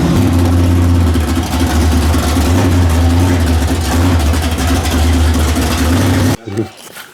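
A repaired 1957 car engine runs loudly and steadily at a rough low idle in a home garage, filling the frame before cutting off abruptly near the end.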